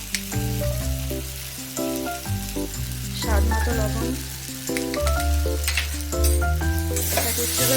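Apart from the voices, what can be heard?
spices with turmeric frying in oil for bitter gourd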